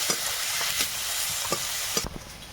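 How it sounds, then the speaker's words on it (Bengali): Chilli, cumin and coriander powders with a little sugar are stirred in a hot pan (kadai), giving a steady sizzle broken by several sharp scraping strokes of the spoon, close and fairly loud, with no talking. "অল্প একটু লঙ্কা গুঁড়ো জিরে গুঁড়ো ধনে গুঁড়োটা দিলাম সামান্য একটু চিনি সবগুলো একসঙ্গে মিশিয়ে নেব"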